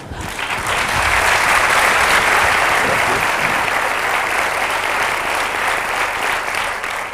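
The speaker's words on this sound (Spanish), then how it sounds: "Muchísimas gracias por estos aplausos" A theatre audience applauds a comedian at a humour awards gala, dense sustained clapping that swells quickly and stays loud for several seconds before easing slightly.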